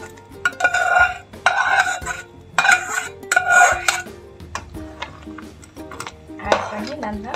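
A spoon clinks and scrapes against a pot as crab curry is stirred, the metallic knocks coming in short bursts while a person talks over the cooking.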